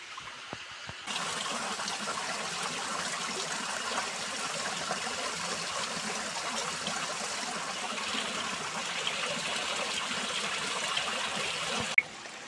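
A small mountain stream flows along a rocky bank in a Nepali hillside, a steady, moderately close rush and trickle of water continuing unbroken throughout with no voices.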